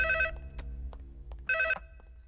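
A telephone bell rings indoors in two short, bright bursts separated by a pause, over a low background hum.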